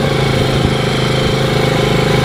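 Small Yamaha Moto4 ATV engine running steadily close by, a loud continuous buzzing drone with an even pulse and no speech over it.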